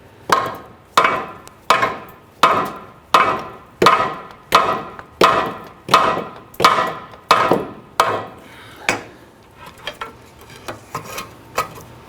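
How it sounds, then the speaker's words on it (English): About ten evenly spaced, hard hammer blows ring out on a metal ball joint of a 1999-2004 Jeep Grand Cherokee, followed by a few lighter, scattered knocks. "You can try using a hammer while you're doing this in conjunction to try and shock it"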